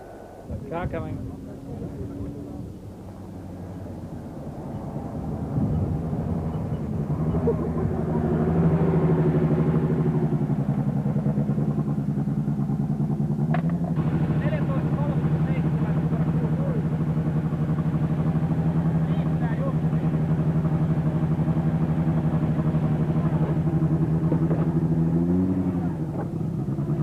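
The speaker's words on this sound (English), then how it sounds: "Car coming." A rally car on a special stage of the 1986 Rally New Zealand approaches from a distance, its engine note swelling into a loud sustained drone that holds steady as it nears, with a voice talking over the start.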